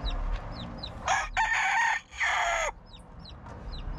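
A rooster crows outdoors, with a loud, drawn-out crow rising and breaking off, set against chirping birds in the background.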